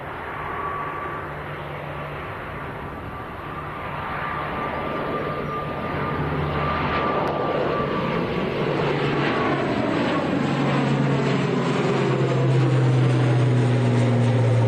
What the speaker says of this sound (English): Aer Lingus ATR. This one's going out to Belfast.